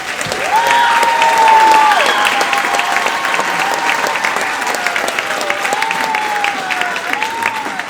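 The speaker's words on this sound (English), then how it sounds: "Will you give them one more round of applause real quick?" A middle school spring music program audience applauds the school band, a dense burst of clapping that holds steady throughout, with a voice speaking over it.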